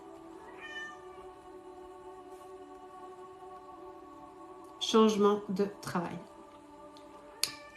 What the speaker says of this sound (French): ça c'est mon chat qui râle